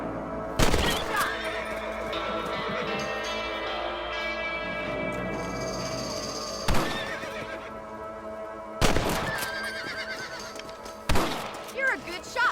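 A horse in Red Dead Redemption whinnies and snorts with a long tonal neigh, while sharp hoof and impact sounds punctuate the scene and voices speak over it.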